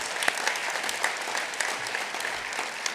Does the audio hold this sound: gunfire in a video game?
no